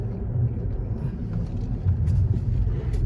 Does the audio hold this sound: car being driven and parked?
yes